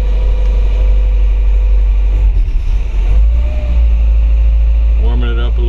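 A 1961 Mercedes-Benz 190SL roadster engine runs while warming up, giving a steady, close, continuous low rumble that holds an even level throughout.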